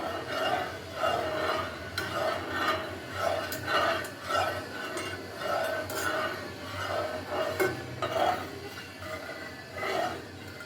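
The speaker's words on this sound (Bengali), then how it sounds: "এখন নাড়ব" Agar agar coconut pudding mixture is stirred in a pot, producing a steady, rhythmic scraping and swishing with repeated soft clinks of the spoon against the pot, fairly quiet and continuous.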